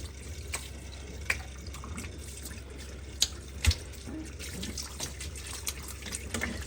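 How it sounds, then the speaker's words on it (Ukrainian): Cold tap water runs steadily over a pork knuckle in a sink, a continuous splashing flow with occasional sharper drips and clinks rising above it, close and alone. "Ось наше м'яско промиваємо під проточною холодною водичкою."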